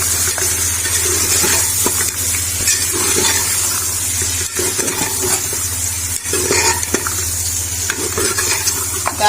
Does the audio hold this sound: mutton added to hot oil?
yes